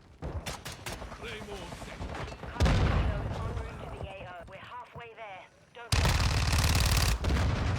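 Rapid automatic gunfire bursts loudly in Warzone 2 gameplay, with dense repeated shots in several stretches, while someone talks excitedly between and over the shooting.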